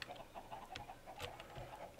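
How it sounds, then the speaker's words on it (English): Chickens in a video game cluck faintly in short, irregular bursts over a soft background hum. "Oh, there's chickens."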